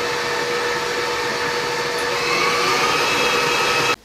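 An electric hand mixer whirs steadily at high speed as it beats frosting with powdered sugar, a loud continuous motor drone that holds without a break and cuts off abruptly at the end.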